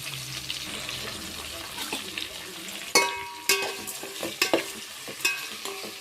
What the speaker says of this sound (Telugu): బాగా మగ్గేదాకా వాటిని కలయబెట్టాలి ఫ్రెండ్స్